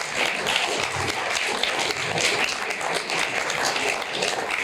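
A town hall audience claps for visiting representatives, a dense, even wash of applause that stays loud and steady from start to finish.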